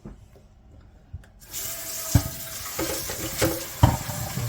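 Tap water running and splashing into a pan while starch is rinsed off potatoes, starting after a quiet moment, then a steady gush with a few clanks of the pan.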